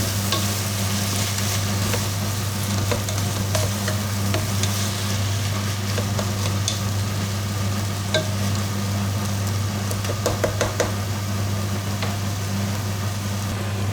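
Chicken for a curry sizzles and fries steadily in a pan while it is stirred, with a continuous close hiss, occasional scraping clicks and a low steady hum underneath, no voices.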